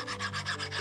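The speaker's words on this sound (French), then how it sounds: "on est en train de limer le cadenas pour pouvoir en mettre un nouveau" A hand file rasping on a metal padlock outdoors, several quick rhythmic strokes in under a second, close and steady.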